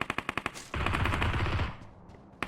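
PUBG Mobile game gunfire, heard as a rapid series of about six sharp shots, then a dense sustained burst, with one more shot at the end.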